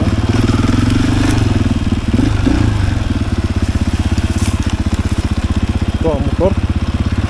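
A KTM EXC-F 500 enduro motorcycle from 2022 climbs a forest trail, its single-cylinder engine thumping loudly and steadily up close, with a brief rev around the middle and voices over it.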